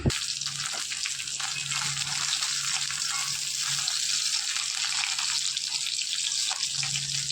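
Fish sizzles steadily in oil left over from frying pointed gourd, a continuous close hiss with faint bubbling and no voices.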